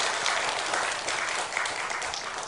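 A church congregation applauds at an afternoon praise service, a steady, dense wash of many hands clapping together that stays loud and even for the whole stretch, with no voices rising above it.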